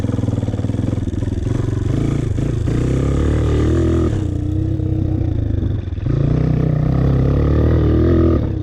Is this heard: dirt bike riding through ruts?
yes